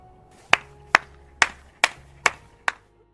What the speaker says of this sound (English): he suddenly begins clapping.